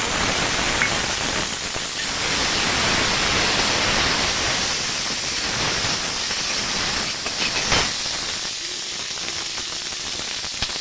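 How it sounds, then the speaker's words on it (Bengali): Cut potatoes with chillies added to hot oil for a thin fish and bean curry give a loud, steady, dense sizzling hiss that continues without a break throughout. "তেল রয়েছে এই তেলের মধ্যে দিয়ে দেব আলু কেটে রাখা আলু"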